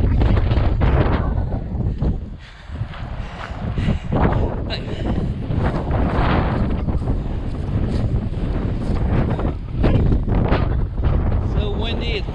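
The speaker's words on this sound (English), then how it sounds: "So windy, it's blowing furniture off the porch." Strong wind gusts batter the microphone on a porch, roaring and buffeting loudly with surging rushes and brief lulls.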